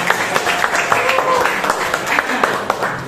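Students in an Islamic studies class clap briefly together, a short burst of scattered claps with audible individual hits and some voices underneath.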